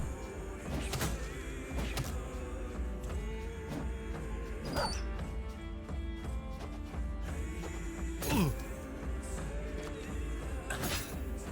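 War dog in the Battle Brothers game, short barks, yips and snarling bite sounds scattered among clanking combat effects, close and fairly loud, with no talking.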